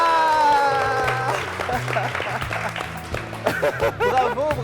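Studio audience applause and clapping on a French-language TV show, mixed with laughter and a host's voice talking over the crowd.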